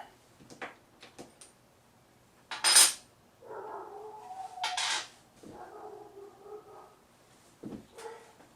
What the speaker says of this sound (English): And if you can hear him in the back, my dog is outside.